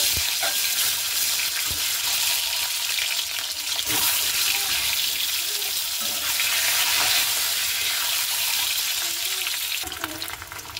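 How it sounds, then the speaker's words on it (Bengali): Eggs fry one at a time in hot oil in a wok, giving a loud, dense, continuous sizzle with occasional pops, easing off slightly near the end. "এবার আমি ডিমগুলো একে একে ভেজে নেব।"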